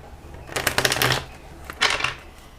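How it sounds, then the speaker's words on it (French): Tarot cards of the minor arcana being shuffled, giving two bursts of rapid riffling clicks, a longer one followed by a shorter one, close and fairly loud with no talking. "On va sortir d'autres cartes. Bien les mélanger, les arcanes mineures"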